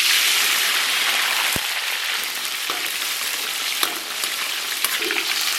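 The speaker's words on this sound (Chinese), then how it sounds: "咱们把葱姜蒜给它下里边" Scallion, ginger and garlic sizzle and crackle in hot oil in a wok, a dense, continuous close frying hiss with a few sharp pops and clinks of stirring, heard alone.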